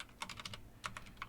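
Quiet, close keystrokes on a computer keyboard come in quick irregular clusters of clicks with short pauses, alone with no voices.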